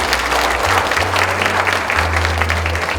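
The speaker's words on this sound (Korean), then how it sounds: "박수 부탁드리겠습니다" Sustained applause from an audience closing a panel talk session at a social welfare conference in Jeju, steady dense clapping throughout with a low hum underneath.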